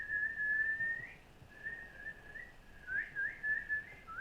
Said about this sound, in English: That's not even a legit whistle.